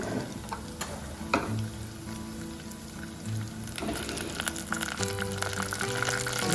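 Dried red chillies, fenugreek seeds and curry leaves sizzle in hot tempering oil for an omelette curry, a moderate steady frying hiss with occasional crackles and faint clinks, no one speaking.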